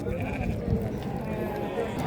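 Sheep bleating at a busy livestock market where ewes are being sold, the animals' calls blending into a dense crowd murmur with people talking nearby throughout.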